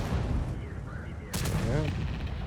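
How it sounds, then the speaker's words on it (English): A single sharp tank cannon blast firing a HEAT round in World of Tanks, loud and sudden over steady engine rumble and battle ambience, with brief voice-like tones in the background. "Let's see if we can penetrate them with these rounds, these heat rounds."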